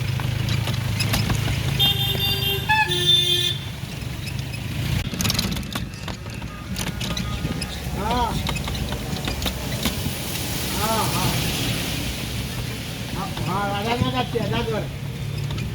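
Ride in a rickshaw through busy street traffic: a steady road rumble with a short horn blast early on, and voices talking over the noise now and then.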